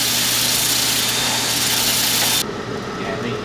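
Electric drill, used to sharpen a point while cutting a blood groove in a dagger, whirring steadily and loudly at close range for a few seconds, then dropping in pitch and volume as it winds down.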